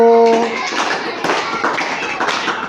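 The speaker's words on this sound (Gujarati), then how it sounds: "ચલો પહેલાં બધા લાડવા તાળી પાડી દો" Young children in a classroom counting game clap their hands, a few brief group claps heard under an adult voice speaking.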